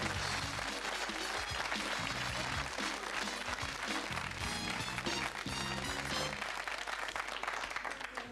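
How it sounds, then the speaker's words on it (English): A television studio audience applauds steadily and loudly for several seconds on a 1995 live late-night show, with music playing underneath, tapering slightly at the end. "Give it a round of applause."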